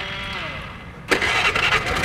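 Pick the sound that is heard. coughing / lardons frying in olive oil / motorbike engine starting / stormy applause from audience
motorbike engine starting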